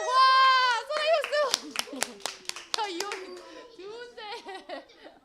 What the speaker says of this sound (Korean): 소나기 박수